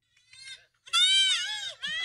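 Baby goats bleat at a goat farm, two high, wavering cries close by, the second louder and longer. No voices are heard.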